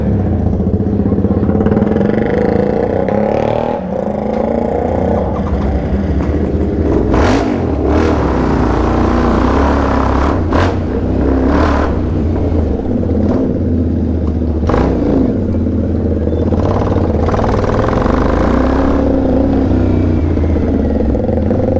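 A motorcycle with its muffler removed roars loudly and continuously, its open exhaust pulsing through repeated revs and blips over a rumbling, steady engine drone with a bit of mechanical clatter.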